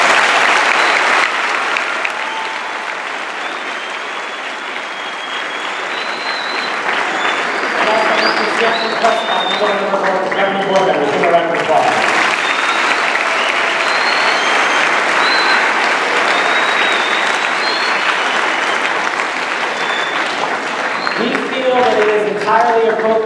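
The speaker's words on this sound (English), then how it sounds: "Give her a big round of applause." An audience at a school assembly at Carl Hayden Community High School applauds a governing board member, steady loud clapping filling the room for the whole stretch, with voices and some cheering mixed in and a fresh swell near the end.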